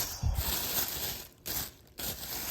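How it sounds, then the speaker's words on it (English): A plastic grocery shopping bag rustles and crinkles up close in short bursts with brief pauses, fairly quiet, with no talk. "Sorry for the noise in the bag."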